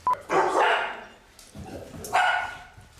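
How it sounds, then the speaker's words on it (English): Dogs barking in two loud, close bursts of yappy barks separated by a short pause, with a faint whimpering tail between them. "Dogs."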